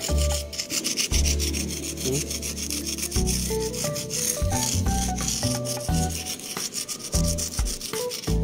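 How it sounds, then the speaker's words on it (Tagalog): Rusty metal is rubbed with WD-40 to strip the rust, a continuous scratchy scrubbing close by, with strokes that shift in pitch over a steady rasping background. "W40 muna natin para matanggal yung kalawang niya."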